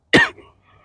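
One short, sharp cough close to the microphone, a single forceful burst followed by a faint trailing breath and quiet.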